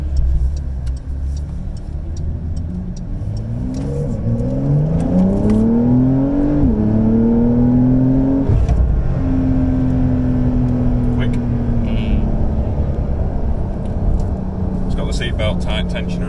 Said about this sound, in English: Sounds fantastic with the sports exhaust on.